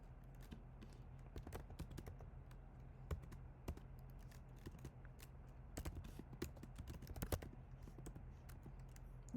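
Typing on a computer keyboard, rapid irregular key clicks in bursts, close and faint over a low steady hum, with no talking.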